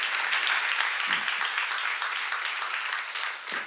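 Congregation applause at a church seminar, a dense steady wash of many hands clapping that fills the stretch evenly, with a brief voice sound breaking through near the start and end.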